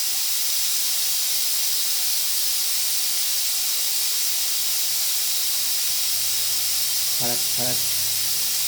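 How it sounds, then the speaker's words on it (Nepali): A pressure cooker cooking dal lets off a loud, continuous steam hiss that runs the whole time, with a brief voice and a low rumble near the end. "यो पछाडि दाल पकाएको छु, दालको सिटी लागेर"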